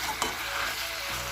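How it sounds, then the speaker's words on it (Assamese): Ginger and garlic sizzle steadily in hot oil while being stirred in a pan, a close, continuous frying hiss with a brief scrape of the spoon early on, no talking. "এতিয়া মই ধুনীয়াকৈ লৰাই মেলি আৰু এইফালে আদা ৰচুন অকণমান আছিলে এইখিনিও দি দিলোঁ।"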